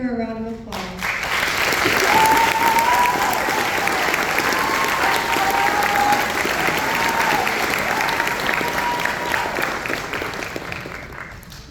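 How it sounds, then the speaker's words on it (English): Sustained audience applause at a high school graduation ceremony, a dense wash of clapping from a large crowd that swells after a second and holds steady for the rest of the clip, with faint voices mixed in. "Everyone, please give her a round of applause."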